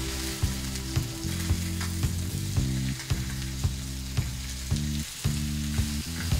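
Barramundi fillet frying in a pan after being flipped, a steady close sizzle with regular sharp ticks and a faint mechanical hum running beneath.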